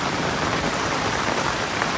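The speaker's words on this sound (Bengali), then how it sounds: "বিশাল জোরে বৃষ্টি হচ্ছে কিন্তু কন্টিনিউ এক মিনিটও বন্ধ নেই" Heavy torrential rain pours without pause during days of nonstop downpour that has flooded canals and fields; a dense, loud, unbroken hiss fills the whole moment.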